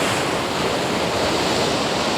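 Ocean waves break continuously in a loud, dense wash of surf that stays steady throughout, with wind on the microphone mixed in.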